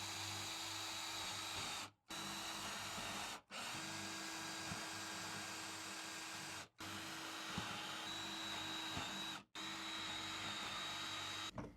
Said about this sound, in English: So I'm just going to run screws just to be safe.